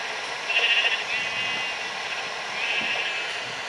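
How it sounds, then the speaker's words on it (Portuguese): Sheep bleating in Minecraft Pocket Edition, two drawn-out bleats at moderate volume over a steady game background hum, with no talking. "Tem que matar as ovelhas."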